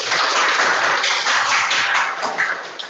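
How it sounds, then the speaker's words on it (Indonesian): Children in a classroom clapping for themselves, a dense burst of many small hands applauding together, loud and close, tapering off after a few seconds. "Oke, tepuk tangan buat kalian"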